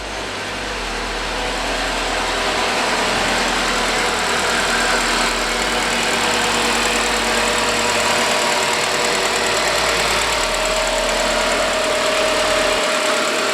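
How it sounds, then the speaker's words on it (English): A SAAB 9-5 Aero engine idles steadily up close after sitting unused for several weeks, a constant mid-pitched drone with light rhythmic ticking and vibration, cutting off abruptly at the end. "So it's ticking a little bit, and that's because the car hasn't been running for several weeks."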